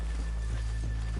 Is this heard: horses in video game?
yes